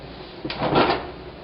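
An oven door lifted off its hinges gives a single short scraping clunk with a light rattle, close and moderately loud over a quiet room hum.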